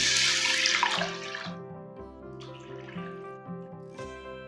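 Water pouring into a pot of whole masoor lentils with fried spices and eggplant, a broad splashing rush at first that thins to a lighter trickle, close and steady with no talk.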